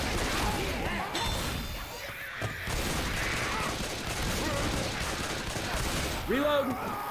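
Bursts of gunfire and crashing impacts from the zombie shooter Left 4 Dead 2 rattle through a busy game mix, with players talking over the action.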